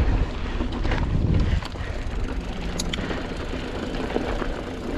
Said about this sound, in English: Riding downhill.